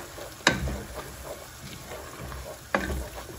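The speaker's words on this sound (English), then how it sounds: "we're going to make our roux by adding a cup of flour to our butter. And we are going to start to let that cook, and we're going to mix that together" A roux of flour and butter cooking in a pot for tomato bisque gives a quiet, steady sizzle, broken by two sharp knocks or scrapes of a utensil as it is stirred.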